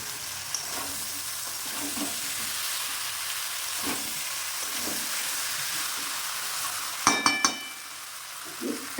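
Jackfruit curry with fried prawns being stirred in a pan: a steady close sizzle of frying runs throughout, with a quick burst of spoon scrapes and clinks near the end.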